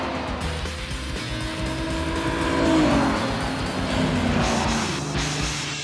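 LS-powered Pontiac Trans Am racing down a drag strip in a drag racing game show, a loud sustained engine roar that swells and rises in pitch toward the middle, with faint tire noise and no talk.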